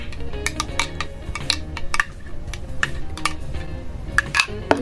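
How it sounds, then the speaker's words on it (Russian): Homemade orange shampoo mixture being stirred in a container, giving a quick series of light clinks and taps of utensil against vessel, close and fairly quiet, with no one talking. "И перемешиваем опять же."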